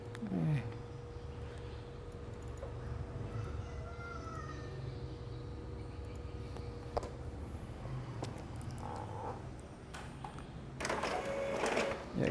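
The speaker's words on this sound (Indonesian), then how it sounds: "Ya, kita lihat printer sudah berhasil melakukan print dan sudah normal ya." An Epson L3210 inkjet printer prints a page after a sensor fault was fixed, giving a steady mechanical whir and rattle that runs throughout and swells into a louder burst near the end.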